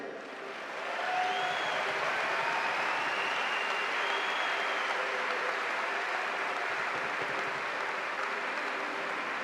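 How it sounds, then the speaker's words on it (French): Spectators at a Cesta Punta semi-final match in Saint-Jean-de-Luz fronton applaud the four professional players, a sustained, dense wash of clapping rising quickly and holding steady at moderate distance, with faint music or tones underneath. "Merci d'applaudir chaleureusement les 4 joueurs professionnels de ce soir."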